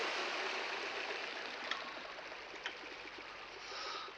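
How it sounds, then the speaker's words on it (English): A small waterfall in the Trainz train simulator game gives a steady, broadband rushing hiss of falling water, even and continuous, with a couple of faint clicks over it. "It's a nice little waterfall here."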